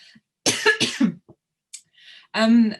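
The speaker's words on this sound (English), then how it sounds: "Not a good time to have a cough." Two harsh coughs in quick succession, close and loud, followed a moment later by a short voiced throat sound after brief quiet.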